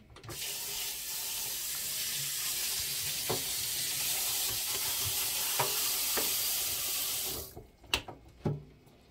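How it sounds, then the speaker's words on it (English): Coconut milk pours and trickles through a sieve into a pot in a steady, close liquid stream, with a few light clinks of utensils after it stops. "I have to make sure there's no particle of the coconut. That's why I'm still sieving it."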